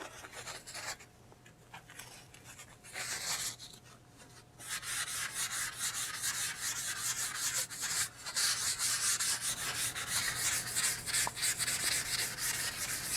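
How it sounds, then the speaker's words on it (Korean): Pastel is rubbed across paper to blend colours, giving a dry, continuous scratchy rubbing that pauses briefly early on, then grows louder and steadier. "한번 문질러 보죠."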